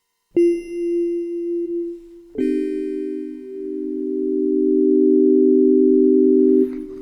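An M0SS 416 FM synthesizer, a tiny DX7-style instrument, sounds a steady electronic tone that holds, then a richer, louder note enters and sustains for several seconds before cutting off, with no voice.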